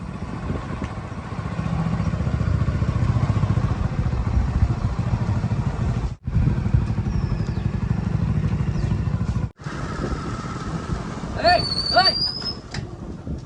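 A motorcycle rides with a Rottweiler aboard, its engine and road rumble forming a steady, loud drone, broken by two brief dropouts, with faint bird-like chirps and a short high squeal near the end.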